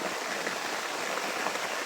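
Heavy rain pouring in a dense, continuous hiss, a broad steady wash of falling water with no distinct drops or voices, moderately quiet throughout.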